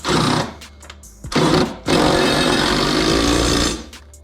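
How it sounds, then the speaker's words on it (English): Small cordless impact wrench tightening a bolt on the rear cradle of a Pontiac GTO during suspension work, in loud whirring bursts: a short one, a brief pause, another burst, then a long sustained run of nearly two seconds. "Use my little impact here to tighten it down."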